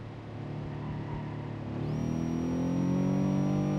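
Simulated Subaru engine in the BeamNG.Drive driving game laboring up a hill, a steady strained drone that grows louder and rises in pitch partway through, with a thin whine emerging, no voices.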